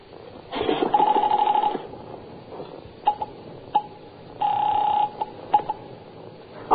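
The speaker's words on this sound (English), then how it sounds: "I reached for the phone." An old telephone handset lifted and dialed in a radio drama, with ringing bursts of tone, a clatter and several sharp clicks between them, close and fairly loud with no voices.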